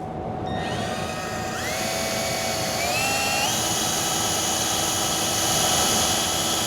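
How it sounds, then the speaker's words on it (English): A power drill whines steadily at high pitch, its tone shifting upward in steps as it grinds continuously through a broken EGR bolt on a Ford 6.7 diesel engine, with lubricant applied. "We're gonna drill, and we're gonna keep exhausting the drill bit."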